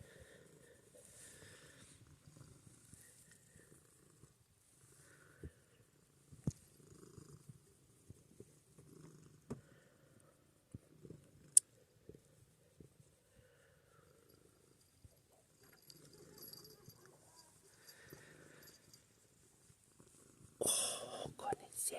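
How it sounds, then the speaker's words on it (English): A small cat purrs softly and closely in a quiet morning room, a low continuous rumble under hushed, affectionate talk, with a few clicks and a brief louder rustle near the end. "These little cat Purrs."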